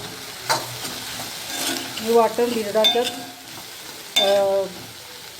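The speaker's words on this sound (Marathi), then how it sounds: "तेल टाकलं आपण थोडं परत हलवून घ्यायचं त्याला" Onion-coconut masala for a Konkan-style paste frying in a little oil in a kadhai, with soft sizzling under scraping stirs and a brief spoken phrase over it.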